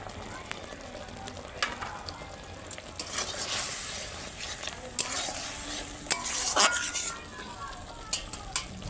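Eggplant mustard curry cooks in oil with green chili, a soft sizzle under sharp clinks and scrapes of a spoon against the pan, heard close and fairly quiet.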